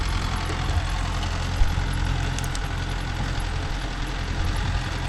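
A Mahindra Yuvo Tech Plus 585 4WD tractor engine runs steadily close by, a loud, even low-pitched drone with a faint knock and no talking.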